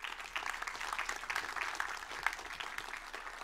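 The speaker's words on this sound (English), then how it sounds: "is that polite applause or is that like enthusiastic Stanford applause?" Audience applause after a conference talk with a Q&A to follow, a steady broad patter of many clapping hands that stays fairly quiet and distant, holding even for the whole stretch with no voices over it.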